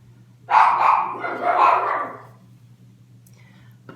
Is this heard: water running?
no